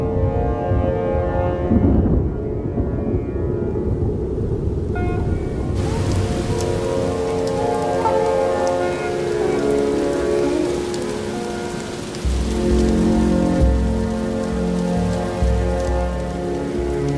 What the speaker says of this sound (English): The lashing rain will test the king cobra's nest.